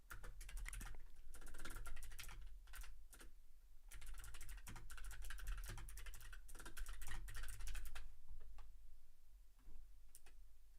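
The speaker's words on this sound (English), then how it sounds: "Why am I typing so slow?" Fast, uneven clicking of computer keyboard keys being typed on, close and continuous with brief pauses between bursts, over a low steady hum and no talking.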